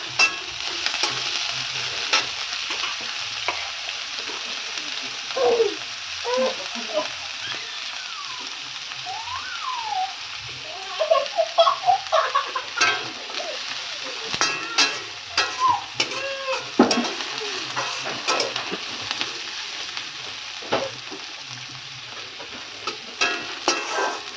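Four green chillies fry in hot oil with a steady close sizzle, broken by intermittent stirring scrapes and clinks in the pan.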